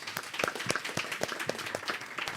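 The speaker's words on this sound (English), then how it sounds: "Round of applause for Maddie, please." Sparse, fairly quiet clapping from a small audience during a talk on learning, with distinct individual claps in an uneven rhythm throughout.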